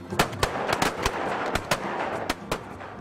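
Shotguns fire during a dove hunt in Leflore County, Mississippi: a rapid volley of loud, close blasts, about ten in three seconds, some overlapping one another.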